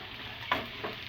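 Sizzling oil in a pan with capsicum and onion as fried chicken pieces go in, a brief louder hiss and stir marking the addition, close and fairly soft with no talking.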